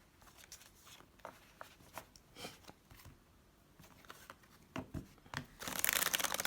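Playing cards shuffled by hand, a series of soft riffles and flicks spaced through the clip, close and quiet, building to a dense, louder burst of riffling at the end.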